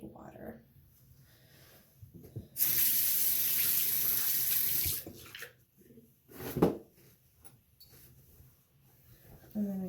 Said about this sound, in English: just run it under some cold water to get it wet